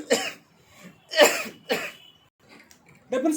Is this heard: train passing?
no